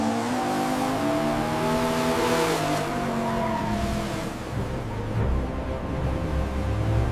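A Kia Sorento cruises along a road in Dubai, its engine hum rising and settling under a constant rush of tire and wind noise, close and steady throughout with no talk.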